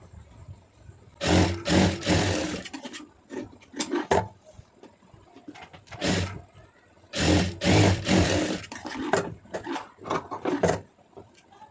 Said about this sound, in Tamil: அதை கரெக்டாக மடக்கி வந்து ஒரு உள்ள தையல் ஒன்று போட்டுருங்க.